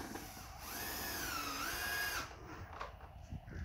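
A power screwdriver drives a screw through larch rhombus cladding boards, one whirring burst rising in pitch for about two seconds before stopping, followed by faint handling clatter.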